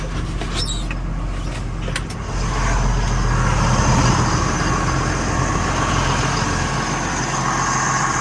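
A John Deere tractor engine runs steadily outdoors, a continuous even drone with no knocks or surges, holding close and moderately loud for the whole stretch with no talk.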